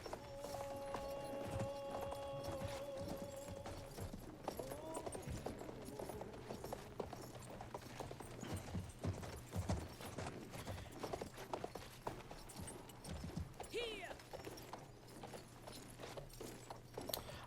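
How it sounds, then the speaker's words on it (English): Steady clip-clop of horse hooves at a gallop in Battlefield 1, continuous and fairly even, over a low constant hum with faint game mechanical noises. "Why would I ever want to stop riding this horse?"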